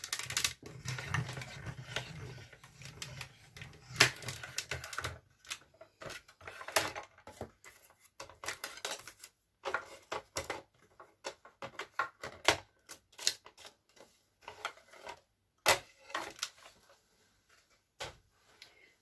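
A die-cutting machine runs white cardstock with a large circle die. Quiet, irregular clicking and ratcheting sounds come in short bursts, with brief pauses between them, close by.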